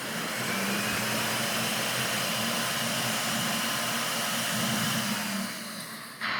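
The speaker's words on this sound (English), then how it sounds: "The Project record cleaner happens to have a little vacuum feature, so we're going to turn that on to pick up any of the dirt and the residual fluid." A Pro-Ject record cleaning machine runs its vacuum over a wet vinyl record, drawing off dirt and cleaning fluid with a steady, loud, close whine and rush that holds for about six seconds before dipping briefly at the end.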